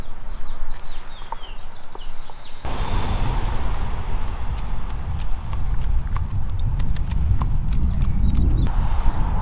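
Horse hooves clip-clop at a steady walking rhythm on a street in a small country town, close and continuous, with birds chirping faintly in the background.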